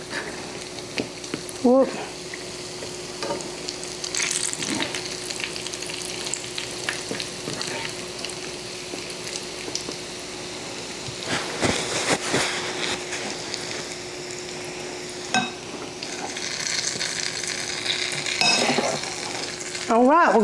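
Homemade fried apple pies sizzle steadily in hot oil while they are turned, with occasional utensil clinks and scrapes nearby and a brief exclamation from one voice.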